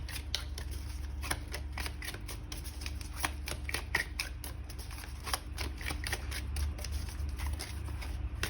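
Oracle cards from a deck are shuffled in a steady run of soft riffling flutters and taps, close and continuous with no talking, over a low background hum.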